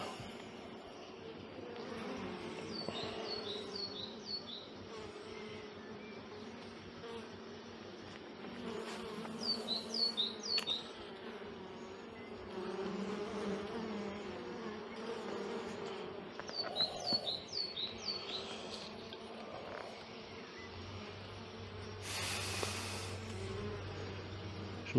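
Honeybees buzz steadily around an open hive while breeding queens are inspected, a close, continuous drone with birds chirping faintly in the background and a brief louder rush near the end.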